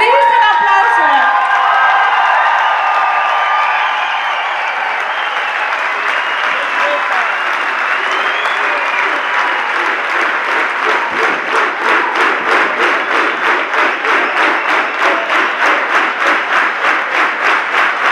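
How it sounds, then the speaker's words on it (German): Big festival crowd applauding at a Bavarian Musikfest in Bertoldshofen, loud dense clapping with cheers that settles into a steady, rhythmic clap-along in unison toward the end, with voices mixed in. "Das ist ein riesen Applaus für euch."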